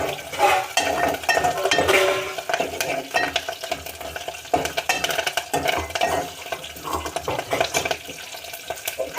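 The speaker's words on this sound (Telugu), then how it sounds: "కరివేపాకు వేస్తున్నా, ఇది కూడా వేసుకొని మంచిగా కలుపుకోవాలి. కరివేపాకు వేగనివ్వాలి మంచిగా." Curry leaves crackle and sizzle in hot oil with onion in a pan for a tomato shrimp curry, under busy spoon scraping and clattering stirs that run throughout.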